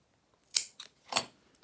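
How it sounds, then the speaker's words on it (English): Scissors snipping a fabric strap in half for a sewalong, a few short, crisp close cuts: two quick snips, then one more, in a quiet room. "now snip that in half"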